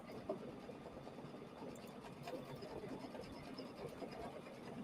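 An embroidery machine stitches a quilted table runner design, a quiet, steady mechanical whir with faint rapid needle clatter running throughout, no talk.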